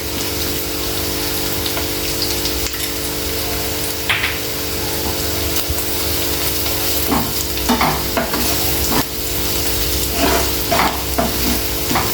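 Onions with ginger and turmeric fry in a pan with a loud, steady sizzle, while spatula scrapes and stirring knocks grow more frequent in the second half over a low, constant hum.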